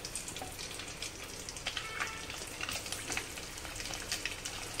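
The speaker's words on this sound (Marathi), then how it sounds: "आता आपण ह्या चकल्या तळण्यासाठी टाकून घेऊया." Sabudana potato chakli frying in hot oil in a kadhai, a faint, steady crackling sizzle with scattered small pops, heard alone without speech.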